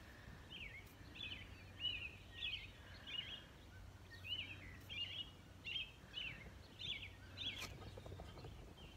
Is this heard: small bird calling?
yes